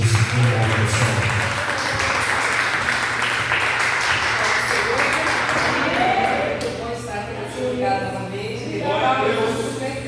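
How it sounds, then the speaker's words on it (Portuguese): Church congregation applauding during an evening service, dense sustained clapping from a crowd that continues for several seconds, with voices and singing rising over it toward the end. "Aplauda o nome do Senhor Jesus."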